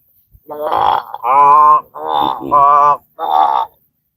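A human voice imitates a frog croaking with four loud, drawn-out, throaty croaks in a steady sequence, each separated by a short pause.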